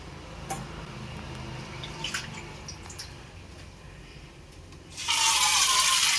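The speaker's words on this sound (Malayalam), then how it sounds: "വെള്ളം ഒഴിച്ച് അടുപ്പത്തേക്ക് വയ്ക്കുകയാണ്." Faint clinks and drips in a village kitchen give way to a sudden loud, continuous gush as water is poured into a pot of Kerala fish curry, close by with no talk.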